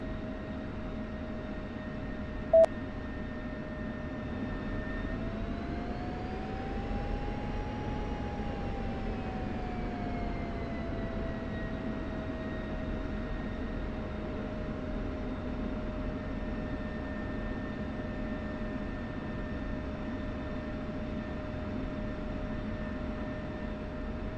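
A fighter jet engine drones steadily at runway 28 in a flight simulator, its pitch rising and swelling briefly as power comes up before settling back into a constant whine, with a short click near the start.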